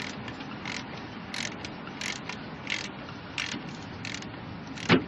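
Ratchet wrench snugging the cylinder head bolts on a Ford 5.4 liter engine, repeated short bursts of rapid clicking in a steady back-and-forth rhythm, close and clear, with no one speaking.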